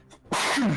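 A single sharp sneeze bursts out loud and close after a quiet moment, among a group of people playing a game, with a brief voiced tail.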